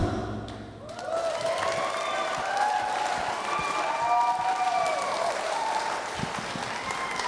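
Audience at a live online talent-show quarter-final clapping along, a broad wash of applause mixed with cheers and rising whoops, sustained throughout at moderate loudness.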